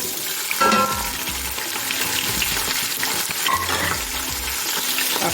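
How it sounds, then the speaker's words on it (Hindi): One medium onion fries in oil for aloo matar pulao, a loud, continuous close sizzle with occasional scraping and clattering from a stirring spoon against the pot. "प्याज को गोल्डन कर लेंगे।"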